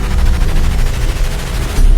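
Gunshots fired into the air during a huge tribal festival gathering in the forest hills of Telangana, a loud dense run of rapid reports over two seconds, with heavy low-end booms and crowd-like rumble beneath.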